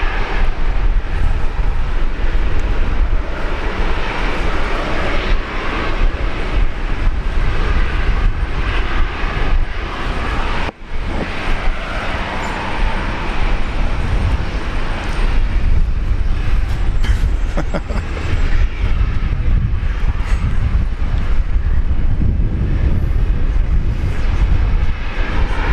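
A Qantas airliner on its takeoff roll from runway 19 left at Brisbane Airport, a loud, steady roar of jet engines building and filling the air without a break, heard close and alone.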